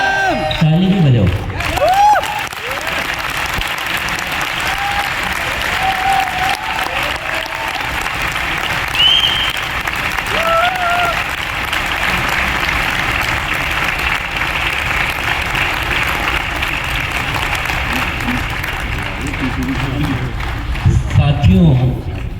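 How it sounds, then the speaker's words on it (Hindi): Seminar audience applauding loudly and continuously, a dense wash of clapping with scattered cheers and whoops, while a speaker's voice cuts in briefly at the start and end. "ताली भी बजाओ।"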